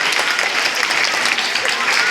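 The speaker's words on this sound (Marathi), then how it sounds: "सर्वांनी सास्कर मॅडम साठी जोरदार टाळ्या या ठिकाणी वाजवायच्या." An audience at a school honours ceremony after Independence Day claps loudly for a teacher, a dense steady burst of applause throughout.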